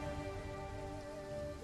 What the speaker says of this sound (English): Okay, raining's not bad for us.